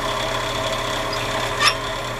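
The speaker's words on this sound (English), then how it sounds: "I have a burn line there. I'm going to put a burn line here too." Wire or tool pressed against spinning turned wood on a lathe to burn a line, a steady close rubbing whir with a brief sharper friction rasp near the end.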